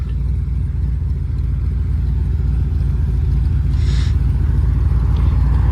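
A 1969 GMC C10 pickup truck engine idles at close range, a continuous low rumble with an even tone and a brief higher hiss partway through.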